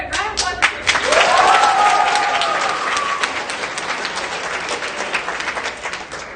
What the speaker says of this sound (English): Round of applause for Christian.